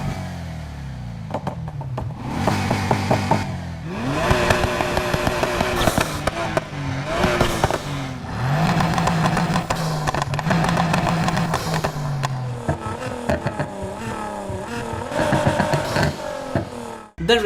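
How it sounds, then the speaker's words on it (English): Car exhausts from the racing game Need for Speed Heat rev and roar in a series of loud, close bursts, engines climbing and dropping in pitch with pops and crackles between pulls, no talk. "all the exhaust sounds from the demo"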